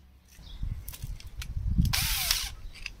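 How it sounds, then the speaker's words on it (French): A power drill bores a hole while fitting launching wheels to an SR230 inflatable boat, with a short high whine burst near the end after some clicks and handling knocks, close by. "je vais prendre un forêt et je vais percer directement"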